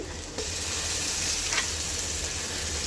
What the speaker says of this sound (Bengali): এখানে আমি রসুন বাটা দিয়ে দিচ্ছি